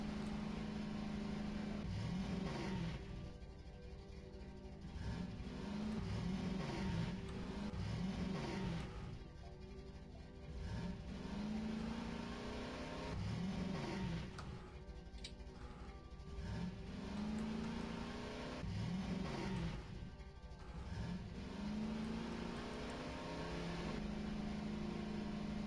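A car engine in the video game Voices of the Void drones steadily, with a rising revving whine repeating every few seconds over a constant low hum, sounding mechanical and looped, with no talking over it.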